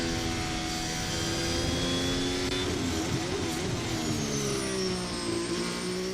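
A Red Bull Formula 1 car engine at the Australian Grand Prix practice session hums with a steady high-pitched tone that shifts slowly. The car has a gear shift issue, and no voices are heard over it.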